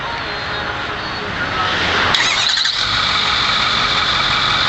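A 2008 Ford F250 with a 6.4 liter Powerstroke turbo diesel cranks and fires, going from a rising starter whir to a loud, steady, rough diesel idle close by.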